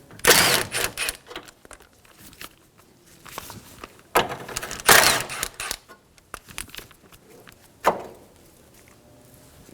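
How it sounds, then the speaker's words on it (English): Metal clicks and clunks from a 10mm socket taking out the radiator brackets on a 2013-2017 Honda Accord, sharp ratcheting bursts near the start and again around the middle, then a single hard knock, all close and unvoiced. "Using a 10mm socket, we're going to remove the two brackets holding the radiator in."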